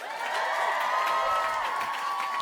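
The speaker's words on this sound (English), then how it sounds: "Give a round of applause to NPR for putting this whole thing on" An audience cheers and applauds for NPR, a steady, loud wash of crowd noise with whistle-like tones running through it for the whole stretch.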